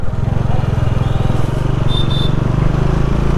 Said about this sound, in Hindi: ऐसा लग रहा है मैं पहाड़ों के किसी मार्केट में बाइक चला रहा हूँ।